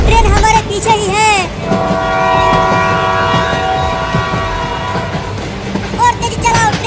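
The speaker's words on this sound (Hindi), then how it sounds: "ट्रेन हमारे पीछे ही है।" A train approaches in a Hindi desi comedy sketch. Its long, loud horn blares over a rumbling, clattering rail noise, and excited voices shout at the start and the end.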